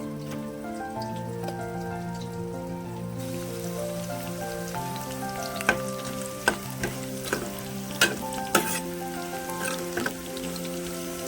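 Bitter gourd pieces fry in oil for a village-style pickle, a soft continuous sizzle with occasional sharp taps and clinks from a utensil against the pan, over a steady background tone and no talking.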